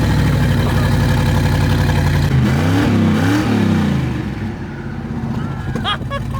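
Car engine with a nearly straight-pipe exhaust, loud, close and raspy, holding a rough idle before revving up and falling back, then settling into a lower rumble.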